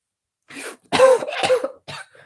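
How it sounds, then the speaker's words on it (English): A short burst of harsh coughing up close, a breath followed by several rough coughs and a final smaller one. "I inhaled so hard I coughed."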